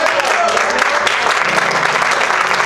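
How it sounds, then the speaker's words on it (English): A church congregation claps at the end of a service, a continuous, full round of applause filling the room, close and loud throughout with faint vocal sounds mixed in. "Give yourselves a round of applause."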